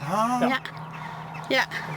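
A few chickens clucking nearby in a backyard animal pen, with short harmonic calls at the start and again near the end over a steady low hum.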